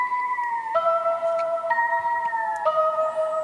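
A melodic synth sample plays a few sustained tones with pitch-bend automation, sliding up and down between notes like a siren, clear and steady with no voices.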